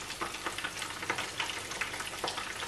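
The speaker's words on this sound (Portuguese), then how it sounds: "Começamos por fritar." Verdinhos frying in hot oil in a pan, a steady close sizzle and crackle with light bubbling bursts throughout and no voices.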